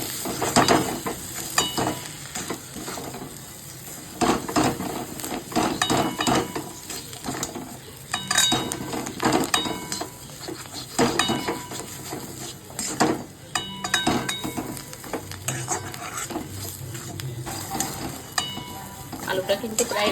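Potatoes fry in a pan with asafoetida, a steady crackling sizzle broken by frequent scraping stirs of a utensil against the pan, close and moderately quiet, with no talk.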